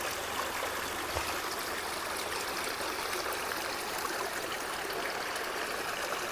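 A shallow stream on an Ooty tea estate runs low, giving a steady hissing, trickling rush that stays even and continuous throughout, close to the microphone with no voices.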